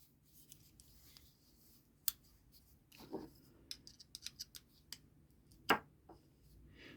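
Small scissors on a Victorinox Champion Swiss Army knife are snipped up close, giving quiet scattered metallic clicks and a few sharper snips against a faint background.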